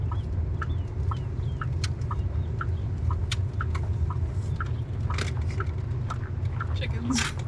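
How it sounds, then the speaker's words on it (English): Chickens cluck in short, repeated bursts in Hico, Texas, over a steady low rumble of background noise, fairly close and moderately loud. "Chickens."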